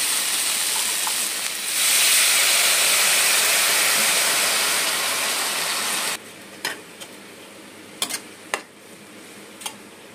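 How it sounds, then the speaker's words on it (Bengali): Water pours into taro stolons frying in a pan, a loud continuous rushing hiss lasting several seconds before it stops abruptly, leaving quieter bubbling and a few sharp utensil clicks. "এখন এর মধ্যে আমি কিছুটা জল দিয়ে দেবো সিদ্ধ করার জন্য"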